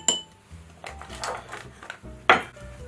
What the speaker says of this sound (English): we're going to start off by putting our pat of butter in our sturdy Uibe Rocks glass